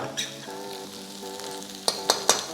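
Garlic frying in a pan for kimchi fried rice, giving a steady, soft sizzle with a few sharp clinks of a utensil against the pan near the end, and no talking over it.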